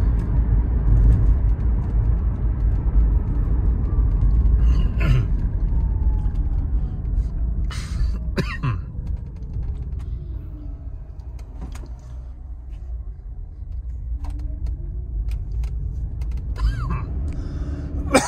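Interior road noise from a 2012 Toyota Prius being driven with a little extra throttle: a steady low rumble with faint creaks and brief clicks, and quiet talk now and then.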